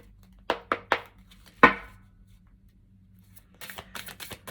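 Oracle deck cards riffled and shuffled by hand in a quiet room: a few sharp, close flutters and slaps in quick succession, a pause, then a softer run of rapid card taps near the end.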